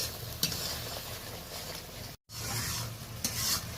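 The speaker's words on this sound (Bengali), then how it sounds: "আরও একবার ভালো করে নাড়াচাড়া করে নিলাম।" Spiced masala with chilli powder frying in oil in a pan while being stirred, a steady close sizzle broken by scraping strokes of the spoon, with one brief gap midway.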